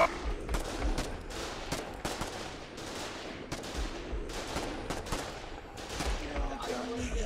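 Dense, continuous gunfire from a war video game battle, with overlapping rapid bursts and single shots at close and middle distance filling the whole stretch without pause.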